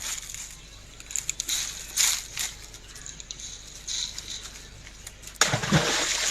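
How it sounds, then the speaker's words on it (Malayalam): A coconut shell thrown into water lands with a sudden loud splash near the end, after several seconds of faint outdoor rustling and clicks. "തേങ്ങാപ്പുള്ളെടുത്ത് വെള്ളത്തിലേക്ക് ഇടുന്നു,"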